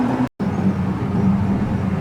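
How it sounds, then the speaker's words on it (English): A car passes on a quiet rural road, a steady broadband engine and tire rumble close by, with one brief dropout, and no voices. "As you can see, the traffic's real busy."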